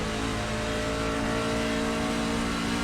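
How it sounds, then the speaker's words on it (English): A racing truck on the Homestead-Miami Speedway circuit powering out of a corner, a loud continuous engine drone with steady rising throttle and a harmonic whine, no talk over it. "You hear his throttle rhythm."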